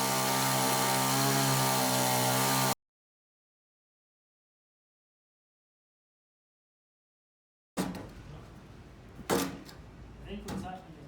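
A winch hauls a green oak beam into place for the tower floors at Sigginstown Castle; its motor gives a steady, loud whirring drone for about three seconds, then stops, and after a silence come scattered knocks and clunks.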